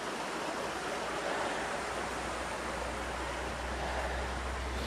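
A river flows below the Vauvise dam, giving a steady, even rush of water that holds at one level throughout with no pauses and no voices.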